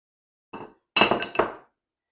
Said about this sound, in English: I'll just use my bowl here to put my spatula in so I don't make a mess.